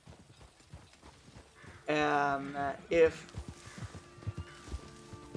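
A horse ridden at a walk in Red Dead Redemption 2, its hooves clip-clopping in a steady, even rhythm close by while someone talks over them.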